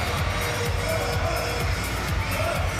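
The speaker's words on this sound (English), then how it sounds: "This is where we see both teams cheering for it until the referee makes that decision." Crowd noise at a men's sitting volleyball bronze medal match between Germany and Egypt at the Paris 2024 Paralympics, a dense, steady roar of cheering from both teams' supporters filling the arena without pause.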